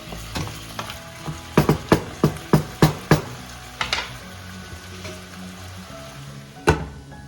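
Beef sauteing in fish sauce and soy sauce for beef pares, with a soft steady sizzle under a run of sharp, rhythmic metallic clacks and scrapes from a utensil working the pan, followed by sparser knocks.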